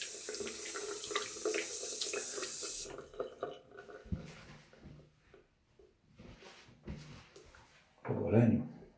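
Water runs from a bathroom tap during a wet shave, a steady broadband rush that stops partway, followed by quieter clinks and handling noises and a brief louder splash near the end.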